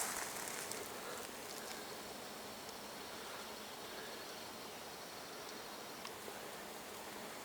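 Bees swarm through a flowering maple tree, a faint, steady hum and airy buzz hanging in the open air, with a few soft rustles.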